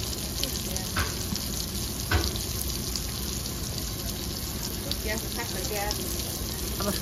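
Dried fish sizzles and fries on a wood-fired clay stove, making a steady crackling hiss with occasional clinks of stirring while people talk nearby.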